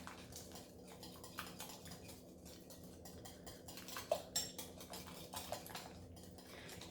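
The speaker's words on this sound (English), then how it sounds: "I'm just using a whisk" A whisk scraping and clinking steadily against a bowl while mashed banana is beaten for chocolate peanut butter pancake batter, with irregular metallic taps and brisk strokes close up.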